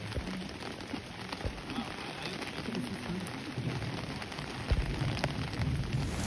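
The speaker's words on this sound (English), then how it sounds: "It's raining, so we're not filming anymore." Rain falls steadily outdoors as a continuous, moderately loud patter with scattered heavier drops and a faint low rumble, with no talking.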